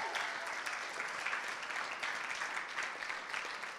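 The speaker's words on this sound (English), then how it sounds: "I just want everyone just to give them a big round of applause." Steady, dense applause from a crowd, continuous clapping at moderate volume throughout without pauses.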